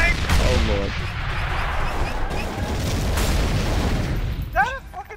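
Tank cannon fire in a Star Wars video game, heavy booming blasts and gunfire rumbling through a dense battle mix, with voices talking over the action.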